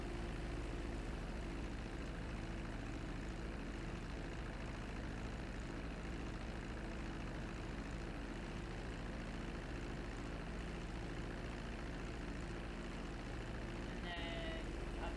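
An airplane taxiing on a runway, its engine a continuous loud, droning roar that holds steady throughout with no break.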